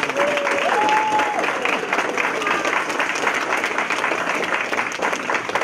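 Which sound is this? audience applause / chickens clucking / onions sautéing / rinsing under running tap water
audience applause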